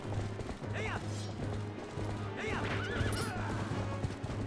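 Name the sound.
Ganondorf's horse neighing, from the video game Zelda: Twilight Princess HD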